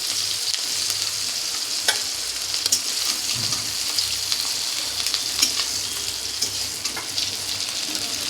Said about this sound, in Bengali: এই মাছগুলোকে ভাজবো।